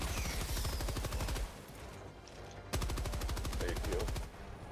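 Rapid automatic gunfire from Helldivers 2 game combat, loud sustained bursts broken by a short lull before firing resumes with the same fast rhythm.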